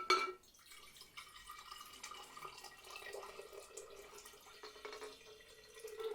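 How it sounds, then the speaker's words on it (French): Water poured into a jar for a homemade lava lamp: a quiet, close, steady trickle with small splashes, continuous throughout. "on va prendre notre pot et on va mettre de l'eau dedans"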